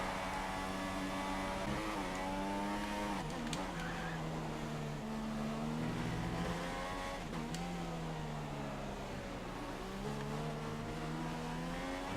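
Formula 1 car engine lapping the Spain circuit in the F1 2016 video game, a loud, continuous high-revving whine with rising and falling pitch through gear changes and corners.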